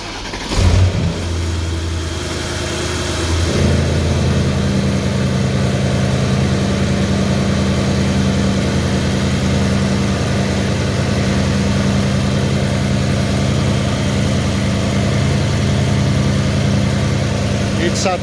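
A Mercedes E63 S V8 engine catches on a cold start with a brief loud burst, then settles into a steady, elevated idle, a deep continuous rumble heard up close with no voices over it.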